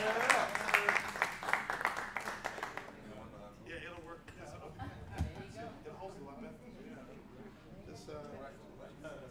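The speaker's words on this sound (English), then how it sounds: "Let's give a big round of applause to Eric Moore for being the equipment manager tonight." A small open mic audience bursts into brisk applause for a few seconds. The clapping fades quickly into someone talking over low room chatter.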